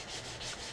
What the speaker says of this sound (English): Got my homemade sanding jig going here.